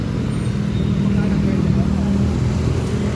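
Many vehicles crawl through traffic near Luneta Park in Manila, a steady low engine rumble close by, with someone speaking over the continuous drone.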